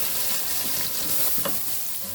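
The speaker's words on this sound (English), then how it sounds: "Just fry that on a low heat" Powdered spices frying on low heat in a pan for tomato salan give a steady, close, hissing sizzle with faint stirring, heard alone throughout.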